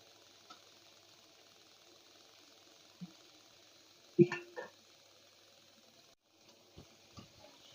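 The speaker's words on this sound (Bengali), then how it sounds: "এই মাছগুলো তো তাড়াতাড়ি ভাজা হয়ে যায়, টাইম লাগে না।" Fish frying in hot oil in a pan, heard as a steady, soft hiss of sizzling that runs throughout, with a few brief clinks and knocks from stirring the pieces.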